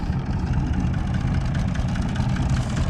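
Massey Ferguson 250 tractor engine running steadily in a steep grazed field, a continuous low throbbing drone close by, with no talk.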